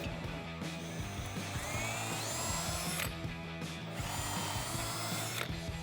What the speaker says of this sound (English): mark where we need to drill a pilot hole for the lag bolts